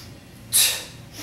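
A single forceful exhale during a tricep push-up, a short breathy rush of air that swells quickly and then fades, close and clear over a quiet room.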